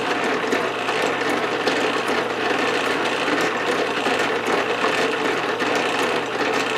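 An Atlas 7B metal shaper cutting steel vise jaws runs with a continuous rhythmic mechanical clatter of gears and ratcheting, loud and close, with no voices.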